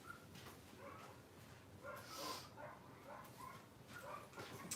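Several dogs bark and yip outdoors at a middle distance, a run of short scattered barks over a steady background hiss with no talking.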